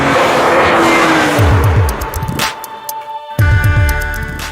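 A BMW M3 CSL engine roaring on Isle of Man roads, loud and close, revving hard with sharp gear-change blips, a brief lull, then surging again without any talk.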